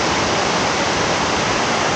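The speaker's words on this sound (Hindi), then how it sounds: "और फिलहाल आप भी मज़ा लीजिए इस वाटरफॉल का" The Wahumlein waterfall roars as a dense, steady rush of falling water, loud and continuous with no voices over it.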